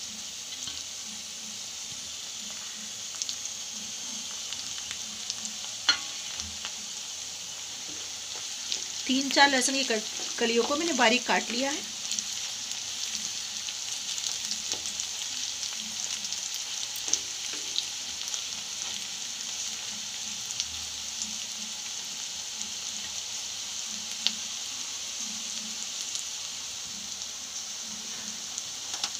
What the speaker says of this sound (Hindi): दिखेगा प्याज और शिमला मिर्च दोनों अच्छे से फ्राई हो चुकी हैं।